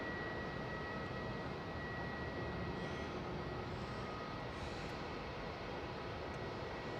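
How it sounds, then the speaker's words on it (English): An airliner lands on runway 16 at Melbourne International Airport. Its engines make a steady, faint, broadband roar heard from a distance, unbroken and with no talk over it. "Runway 16, cleared to land."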